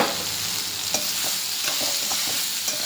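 Ridge gourd sizzles in a hot pan as it is stirred with salt, a steady close frying hiss broken by several sharp spoon scrapes and taps, with no voices.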